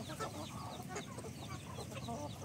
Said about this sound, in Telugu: చూడండి మా కోళ్ళు